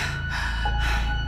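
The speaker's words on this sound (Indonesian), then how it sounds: "itu terdengar seperti suara nafas seseorang yang sedang kelelahan" Heavy, ragged breathing of an exhausted person, as if just after running, comes in close, loud gasping pulls that swell and fade over a dark, droning background.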